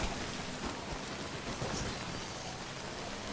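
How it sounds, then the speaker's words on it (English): Rain falling in the video game Death Stranding, a steady, even hiss of rainfall that stays constant and fairly soft throughout, with no voices. "And then we're just stuck in the rain"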